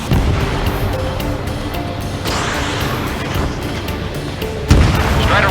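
A destroyed enemy aircraft explodes in a video game, a loud, dense roar of blasts and rumble running throughout, with a sharper burst near the end.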